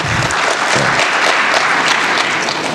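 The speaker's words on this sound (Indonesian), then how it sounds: "Boleh tepuk tangan, nggak apa-apa." Audience applause at an Indonesian televised talk event, loud sustained clapping from a crowd close to the microphone, continuous throughout.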